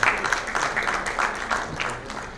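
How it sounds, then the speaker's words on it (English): An event audience applauds a guest speaker at a corporate talk, a steady wash of many hands clapping close by and fairly loud, continuous for a couple of seconds without speech. "Please, can we have a big round of applause for Mr."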